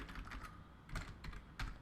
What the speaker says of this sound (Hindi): बस मेरी टाइपिंग ठीक कर दूँ